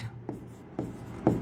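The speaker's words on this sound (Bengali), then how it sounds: "দ্বিতীয়টা আরেকটা বাক্য লিখি" Pen scratching across paper as a sentence is written by hand, three soft strokes spaced about half a second apart, close and quiet over a faint background hum.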